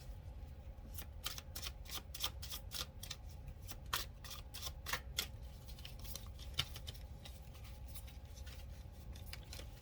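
A deck of African-themed tarot cards shuffled by hand, a long run of quick papery riffles and snaps for nearly ten seconds, close and steady with no talk.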